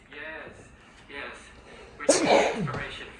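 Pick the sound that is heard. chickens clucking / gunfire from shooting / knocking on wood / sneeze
sneeze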